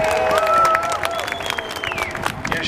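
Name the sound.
audience clapping at Battle of Stoney Creek re-enactment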